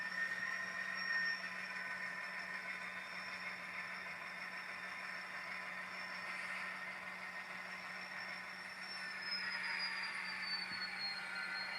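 An HO scale model train locomotive running on a shelf layout track, a steady faint whirring hum with thin high-pitched wheel squeal tones holding throughout, no talk.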